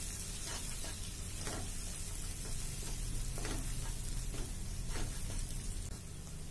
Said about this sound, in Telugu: కొంచెం కరివేపాకు అల్లం వెల్లుల్లి పేస్ట్ వేసి బాగా కలుపుకోవాలి